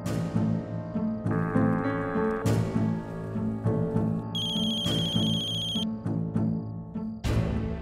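A telephone rings with a melodic electronic ringtone that repeats its pattern steadily for several seconds, loud and close.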